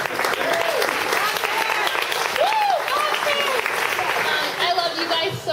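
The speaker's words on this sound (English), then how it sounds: "Let's give a round of applause to Bob's hair." Wedding guests clap and cheer during a reception toast, a full, continuous burst of applause with whoops and shouted voices rising above it.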